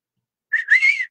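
A person whistles a single short, clear note that rises and wavers for about half a second, close and alone.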